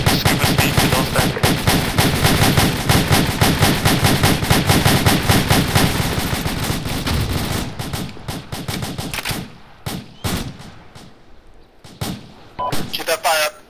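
Rapid, loud bursts of AK rifle fire in an Arma military video game crack continuously at close range, then thin into scattered single shots and short volleys, with brief radio-style voices between them.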